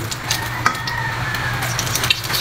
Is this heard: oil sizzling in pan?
yes